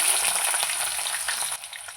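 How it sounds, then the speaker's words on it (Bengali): A medium chopped onion hits hot oil already spiced with cardamom, bay leaf, clove and cinnamon, giving a loud, close, steady sizzle that eases slightly near the end. "এবার এতে আমি মিডিয়াম সাইজের একটা পেঁয়াজ কুচি দিয়ে দেবো।"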